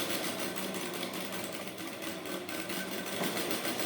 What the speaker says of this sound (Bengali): সেলাই করে নিচ্ছি